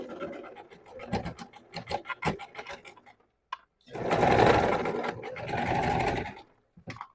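Sewing machine stitching a half-centimetre seam in fabric, a close, steady mechanical run of a few seconds following a stretch of softer scraping and handling sounds.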